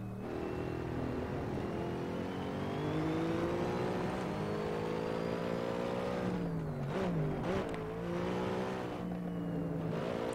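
A Mercedes C63 engine revs in the Assetto Corsa racing game, a steady loud drone that climbs in pitch, dips and wavers around the middle, then holds on at high revs, alone without talk.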